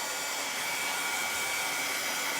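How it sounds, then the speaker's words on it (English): A hair dryer blowing on a freshly painted gingerbread girl craft, a steady, loud whooshing roar that holds constant throughout. "I'm going to run the dryer on it again real quick"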